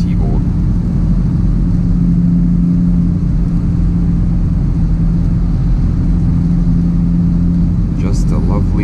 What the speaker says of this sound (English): Just a lovely day for a nice drive in the Supra